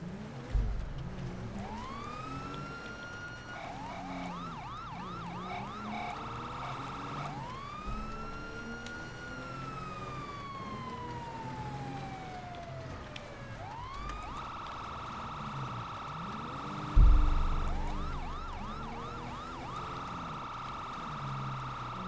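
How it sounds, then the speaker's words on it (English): Police sirens in the video game GTA 5 wail and yelp continuously, rising and falling in long sweeps with quick chirping bursts, steady at moderate level with a brief thump near the end. "You'll hear sirens and follow."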